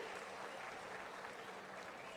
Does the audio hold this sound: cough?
no